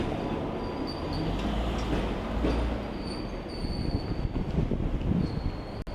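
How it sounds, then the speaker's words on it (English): A Hong Kong tram rumbles along its rails, with squealing wheels and clattering joints in a loud, continuous din. "This is the Hong Kong tram, by the way."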